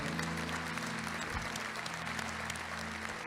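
A church congregation applauds together, a steady dense wash of clapping that fills the space evenly, with a low hum running underneath and no voices standing out.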